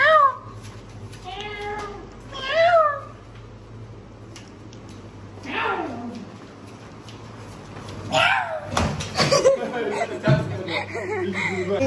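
A pet cat meows several times, rising and falling calls spaced over the scene, while people talk and chuckle nearby in a family holiday setting.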